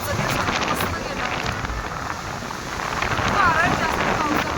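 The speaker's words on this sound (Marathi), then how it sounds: "वारा आहे जास्त, पावसापेक्षा जास्त वारा आहे आणि पाऊस पुढे पुढे जातोय निघून." Wind and rain outdoors blend into a rough, gusting wash of noise with patter of drops, swelling louder toward the end, while faint voices and a brief bird-like chirp come through.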